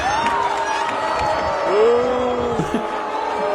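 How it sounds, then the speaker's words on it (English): At a girls' race, a large crowd lets out sustained, rising and falling vocal calls like booing, mixed with shouts and general crowd noise, loud and close throughout. "Listen to the crowd boo when they realize it's the dude."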